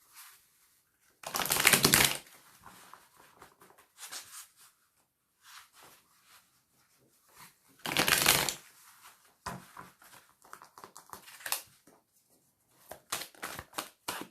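Playing cards being shuffled and drawn during a card reading, with two long riffle shuffles separated by quick snaps and flicks of individual cards as they are laid down, close and crisp.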